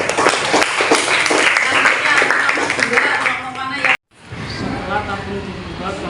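A classroom of students claps for a classmate's group during a lesson, dense crowd clapping filling the first four seconds before a brief pause, then lighter clapping and chatter mixed with voices.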